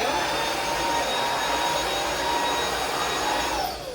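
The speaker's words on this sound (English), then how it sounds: "So as far as a powerful vacuum cleaner goes, it's not super loud." A Eureka Stylus cordless stick vacuum runs steadily with a smooth, high-pitched whir and airy hiss, easing off slightly at the very end.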